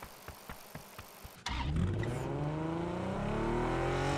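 A McLaren sports car's engine in PUBG starts with a sharp burst and revs up loudly, rising and holding a strong sustained roar after a few quiet clicks at the start.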